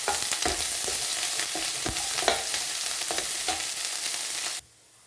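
Crushed ginger and garlic frying in hot oil for a fish pickle, a steady dense sizzle with stirring scrapes throughout that cuts off abruptly near the end.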